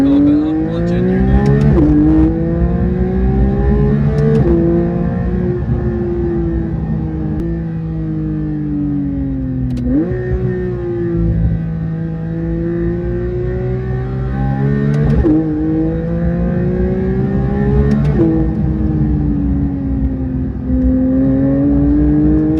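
A Porsche 992 GT3 fitted with a Milltek exhaust revs and pulls hard, its engine note climbing through the gears with sharp shifts and brief dips, loud and close for over twenty seconds.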